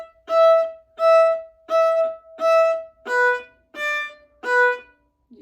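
Solo viola plays an eighth-note exercise close up. Seven evenly spaced bowed notes repeat in a steady rhythm, with the pitch dropping for the last three, and no voices.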